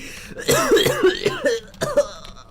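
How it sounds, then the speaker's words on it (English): Several close, rough coughs in quick succession, throaty and harsh with brief gaps between bursts. "Stop making me cough!"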